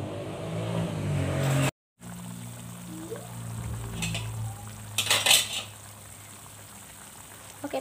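Metal spoon clatters and scrapes inside a pot of clear spinach soup, with a steady simmering background, a brief cutout early on and a cluster of louder clinks midway.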